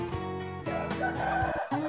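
Roosters and hens on a Brazilian poultry farm where feed is mixed for the birds, with several close, loud crows overlapping with clucking in quick succession and no people speaking.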